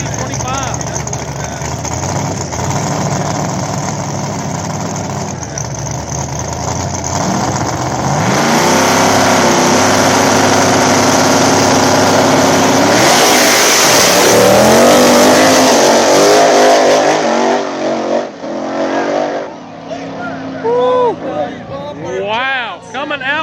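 Small-tire drag race cars on an Ohio track launch and race, engines roaring loud and sustained, building to a full-throttle peak before fading, with an announcer talking over much of it.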